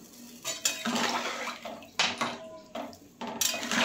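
A lid goes onto a cooking pot of potato and cauliflower fish curry, making several close metallic clanks and clinks from the pot and utensils.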